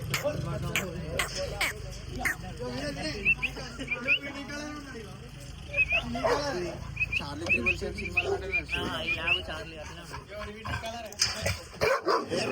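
Rottweiler, German Shepherd, Saint Bernard and Husky puppies aged seven to ten months bark, yip and whimper repeatedly at a dog kennel farm. The calls are close and overlapping, with people talking among them.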